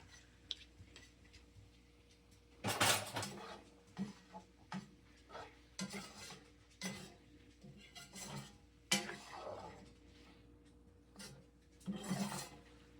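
A spoon stirs and scrapes chili in a pot on the stove after apple cider vinegar has cooked down, giving a string of short, moderately loud scraping strokes with brief pauses between them.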